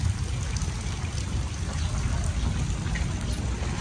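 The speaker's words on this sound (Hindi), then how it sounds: "ये देखें हर तरफ बारिश ही बारिश है, पानी ही पानी है।" Heavy rain and running water in a Punjab village, a steady dense hiss of falling rain with a low rushing wash underneath, continuous and fairly close.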